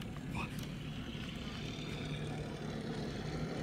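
A heavy Focke-Wulf Fw 190 propeller fighter takes off, heard as a faint, distant, continuous engine rumble without any voices.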